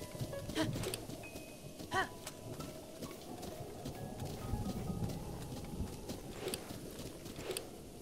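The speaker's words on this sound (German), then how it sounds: "Oh, Regen, sehr schön." Steady rain hisses softly in The Legend of Zelda: Breath of the Wild, a faint, even wash of game ambience with a few brief clicks and chimes on top and no talking.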